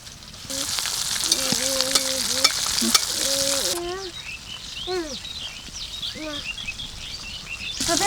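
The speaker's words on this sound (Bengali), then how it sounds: "আমি এদিকে ভেজে নিচ্ছি" Chicken pieces dipped in batter fry in a wok for village-style KFC fried chicken, a steady bright sizzle throughout with stirring, while people talk over it and birds chirp nearby.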